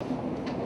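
Train rumbling past at a station, a steady low clattering roar with faint rhythmic clicks, continuous and fairly close throughout the short moment.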